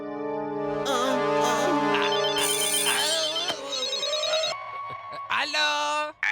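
A telephone ringtone plays during a phone call, an electronic melody with warbling and sliding tones, under overlapping comic voices and effects.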